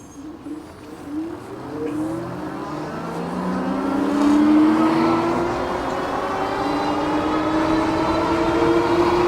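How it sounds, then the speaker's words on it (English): An ASAP Zebra electric bike accelerates hard on twist throttle, its motor whine climbing steadily in pitch over rushing wind and road noise, loud and continuous throughout. "All right, so here we go, twist throttle."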